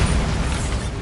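Bombarda blasting spell going off in Hogwarts Legacy, a dense, loud low rumble sustained for about a second with a rough, crackling body and no pause.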